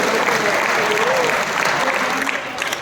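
A crowd at a Hindi poetry recital claps in sustained, dense applause that stays loud throughout before easing slightly at the end.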